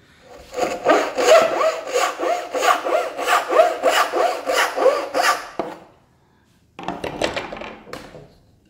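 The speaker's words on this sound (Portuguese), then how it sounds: "a minha tendência é fazer assim com a serra e eu vou quebrar a tirinha de madeira" Hand saw cutting a thin strip of wood makes close, loud, rhythmic back-and-forth rasping strokes for about five seconds, then falls silent briefly before a few more sawing strokes resume.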